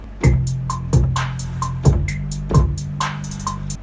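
A programmed fake bass guitar line sits under a kick, snare and hi-hat beat, sustained low notes holding between four punchy kick hits with a steady hi-hat tick above, no voices.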